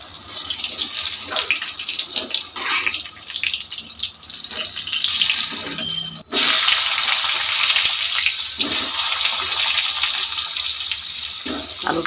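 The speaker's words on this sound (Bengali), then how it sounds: "পটল ভাজা হয়ে গিয়েছে," Pointed gourds (potol) frying in mustard oil in a pan: a steady, close sizzle runs throughout with a brief dip near the middle, then resumes loudly; no one speaks.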